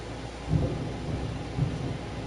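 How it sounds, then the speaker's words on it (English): Steady rain hisses evenly throughout, with a few low rumbling thumps rising under it, likely distant thunder. "Then we got the rain."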